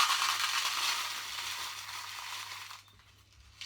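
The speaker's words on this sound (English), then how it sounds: "be very, very careful handling the crushed glass" Crushed glass poured out for a resin geode, a bright, gritty hiss of tumbling fragments that runs steadily and tapers off near the end.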